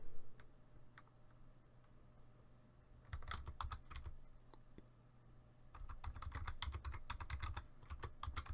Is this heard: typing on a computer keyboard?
yes